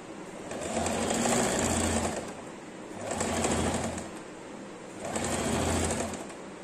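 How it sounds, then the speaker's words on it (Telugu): A sewing machine stitches the back neck of a nighty, running in three steady whirring bursts of about two seconds each, separated by short pauses. The sound is close and clear, and no one speaks. "నెక్ స్టిచ్ చేసుకుందాం."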